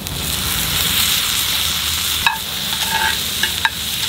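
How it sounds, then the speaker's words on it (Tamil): Tomatoes sauté with ginger garlic paste in a cast iron pan over a rocket stove fire, a steady close sizzle with a few sharp scrapes of stirring near the end. "தக்காளி நல்லா வதங்கிட்டு இருக்கு"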